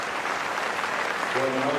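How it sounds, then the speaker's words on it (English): Crowd applause around the Basin Reserve ground at a Test cricket match in New Zealand, a broad, steady clapping from spectators, fairly distant and even, with a commentator's voice coming in near the end. "Jimmy Neesham will walk off to applause from around the ground."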